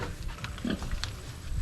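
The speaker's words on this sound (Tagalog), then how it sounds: "Yan. Mga baboy." Pigs grunting and oinking close by after a feed, with a few short snorts and squeals standing out over a rustling, shuffling farmyard background.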